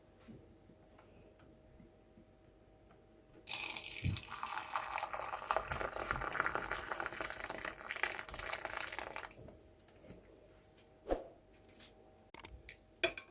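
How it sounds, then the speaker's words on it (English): Boiling water pours steadily into a cup of bay leaf and ginger tea for several seconds, a close splashing stream, then stops, followed by a few light clinks. "I'm now going to add my boiling hot water."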